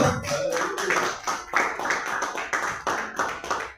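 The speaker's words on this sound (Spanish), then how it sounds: "Denle un fuerte aplauso, Señor." A church congregation during a Bible class gives a loud, full round of applause, dense and continuous clapping with rhythmic surges, close and energetic with a few voices mixed in.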